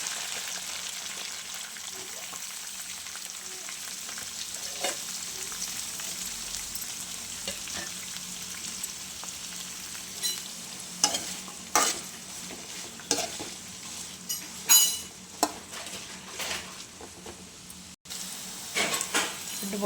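Spiny gourd pieces fry in plenty of hot oil with curry leaves, giving a steady close sizzle, while scraping stirs grow more frequent and louder in the second half.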